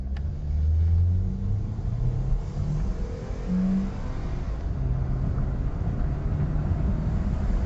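A car driven hard with the gas pedal pressed to the floor, its engine rumbling loud and steady in the cabin as it speeds up, with continuous low drone and wind noise throughout and no talking.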